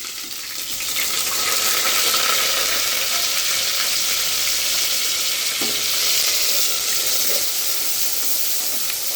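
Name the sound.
onion paste sizzling as it fries in curry pan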